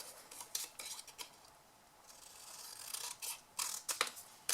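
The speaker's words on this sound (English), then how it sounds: "you're simply going to cut those triangles out" Scissors snip through a cardboard gift box to cut out corner triangles, a close series of crisp, uneven cuts and rustles with short pauses between bursts.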